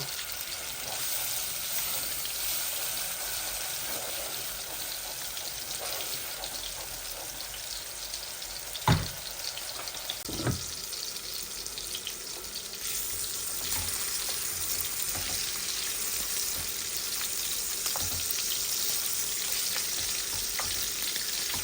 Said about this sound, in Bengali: দুটোটার মধ্যে একটু পানি দিচ্ছি, মশলাগুলো যেন পুড়ে না যায়